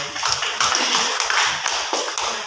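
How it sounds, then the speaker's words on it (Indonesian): Audience applause in a school hall for a presenter at a junior high school seminar; a short burst of many hands clapping in uneven rhythm, close and fairly loud, with no speech. "tepuk tangan dulu untuk Mary"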